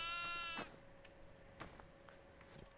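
A goat in the video game Devour gives one loud bleat at the start, followed by quiet clicks and faint thumps under a steady electronic hum.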